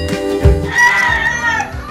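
A Bali jungle fowl rooster crows up close, one loud drawn-out call that rises and then trails off, with some low thumps and background noise beneath it.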